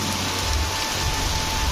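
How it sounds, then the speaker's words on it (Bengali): Heavy rain falls steadily and densely on surfaces close by, a constant loud wash with no pause and no talk. "প্রচুর বৃষ্টি হচ্ছে, প্রচুর।"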